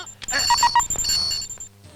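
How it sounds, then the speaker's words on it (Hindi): A mobile phone rings with a quick series of bright electronic beeps, close and loud, as movie dialogue and background sound play around it. "तेरा मोबाइल बज रहा है।"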